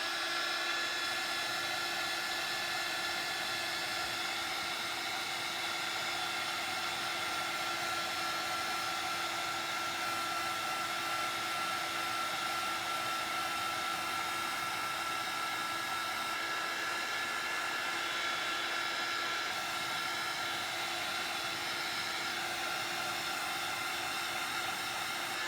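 A hair dryer blows steadily on a homemade Christmas craft, drying freshly applied glitter powder; a continuous close whirring hum with a high whine runs unbroken throughout, with no voices.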